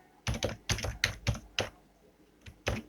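Python code typed on a computer keyboard: several distinct clusters of sharp, close key clicks in uneven bursts with short pauses between, no talking.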